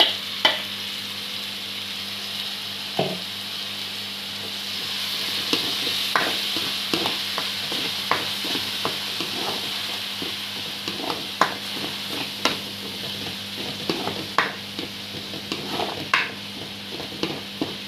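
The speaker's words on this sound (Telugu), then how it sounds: "కొంచెంసేపు దాన్ని అలా వదిలేద్దామండి, ఫ్రై అవుతుందండి." Chopped tomatoes fry in a pan for a paneer egg curry, with a soft steady sizzle under intermittent clinks and scrapes of a stirring spoon, close by and with no voices.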